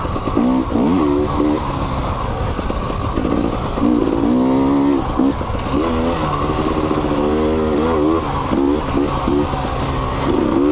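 A 2020 KTM 300 XC W TPI two-stroke dirt bike rides a trail, its engine note loud and continuous, rising and falling through gear changes and throttle pulses with no talk over it.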